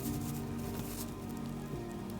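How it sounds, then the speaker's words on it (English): Sleet falling outdoors during an East Texas winter storm, pattering steadily on a car and a fence, a constant dense hiss of small icy impacts with no voices. "where all the sleet hits the fence and rolls down"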